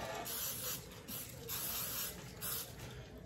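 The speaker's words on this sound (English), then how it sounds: "I'm just going to hit it with some spray since I don't feel like getting the oil out." Cooking spray hisses in short bursts onto a pan while a meatloaf is prepared for a Masterbuilt 560 gravity smoker, with several faint, close sprays a few pauses apart.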